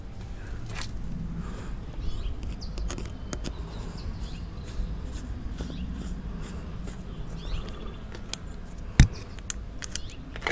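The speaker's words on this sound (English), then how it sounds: "So I'm going to pull these screws out." Phillips head screws are backed out of the throttle tube on a 2021 Honda CRF110 dirt bike, with faint close clicks and small metallic ticks over a quiet background, ending in a few sharper taps.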